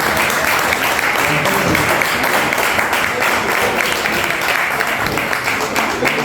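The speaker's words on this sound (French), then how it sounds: "je prie à ceux qui sont assis d'applaudir encore une fois" A seated crowd at a tenth-anniversary commemoration ceremony applauds steadily, dense clapping sustained and loud throughout, with faint murmuring voices mixed in.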